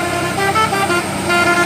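Carlina Trans bus climbing the Sambeng hill in Gunungkidul, sounding a musical telolet horn with tooting tones over a loud engine, racing another bus uphill.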